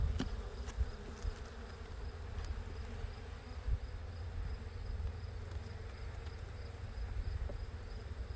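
Honey bees hum with a steady, close drone inside a seven-week-old nuc hive being readied for winter, with a few faint knocks over the continuous buzz.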